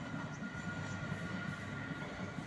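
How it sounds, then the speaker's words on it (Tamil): Train rolling past nearby, a steady low rumble with faint rail clatter through the whole stretch, no voices. "பக்கத்துலேயே ட்ரெயின் போகிறது"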